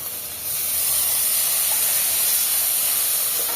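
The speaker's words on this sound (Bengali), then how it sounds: "এই যে মশলাটা ভেজে নিই" Ground spices fry in hot oil in a pan in a Bangladeshi village kitchen, giving a steady, loud, even hiss that fills the whole stretch with no talk over it.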